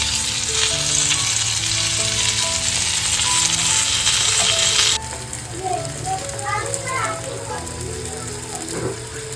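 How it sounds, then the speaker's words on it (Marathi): Steady loud sizzling of stuffed pomfret fish frying in a pan, close by, with a sudden drop in intensity partway through and faint clinks and background tones underneath. "आता इकडे ना पुढचे पण 2 सर्व पापलेट याच्यामध्ये घालून घेते"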